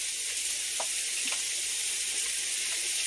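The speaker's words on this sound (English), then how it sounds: "I'm going to go ahead and add in a little more oil." Chicken stew sizzles loudly and steadily in a pan after more oil goes in, a dense continuous hiss with a few faint stirring scrapes inside it.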